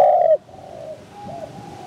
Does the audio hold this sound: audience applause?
no